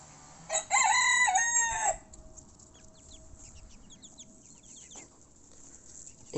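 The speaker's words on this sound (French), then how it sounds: "J'ai ce petit coq là." A young rooster crows loudly and close, one full drawn-out call, followed by softer clucks and chatter from the flock.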